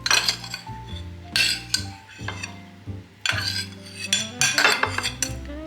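A metal spoon scoops cooked quinoa into a bowl, making a few soft scrapes and light clinks against the dish over steady background music.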